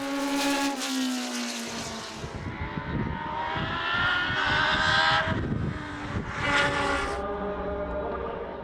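Historic racing cars at a circuit festival at Snetterton, engines howling past at speed with rising and falling pitch, loud and close, one car giving way to another with no talk.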